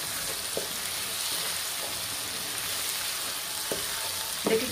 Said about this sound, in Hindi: लोबिया हमारा भुन गया है, हमने इसको अच्छी तरह से भुना है